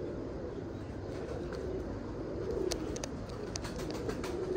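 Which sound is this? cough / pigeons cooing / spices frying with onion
pigeons cooing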